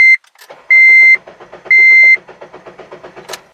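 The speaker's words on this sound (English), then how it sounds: "Listen to the cold start." A used car's engine cranks from cold after two long electronic beeps, a rapid rhythmic chugging that runs steadily to the end, close and clear.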